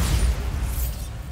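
Bombarda spell blast in the video game Hogwarts Legacy, a short heavy boom with deep low rumble, loud and close, fading over about a second.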